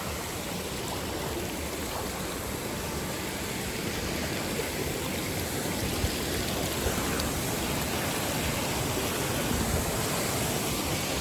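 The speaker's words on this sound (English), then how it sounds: "I made it across the treacherous waterfall." Rushing water roars steadily from a waterfall crossing on the Rainbow Falls trail in the Great Smoky Mountains at night, a close, continuous broadband wash with no talk.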